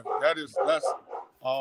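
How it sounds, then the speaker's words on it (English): An excited dog barks and yips in quick bursts close by, tangled up with a man's speech that runs through the barking. "Excuse my dog. He's a little excited."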